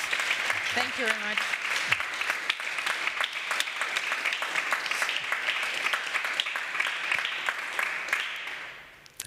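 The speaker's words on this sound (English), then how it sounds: "this is your applause here from our audience on site" Audience on site at an East Africa Impact Days event applauding, a dense steady clapping that fills the room and carries on throughout, with a brief spoken thank-you near the start before fading slightly at the end.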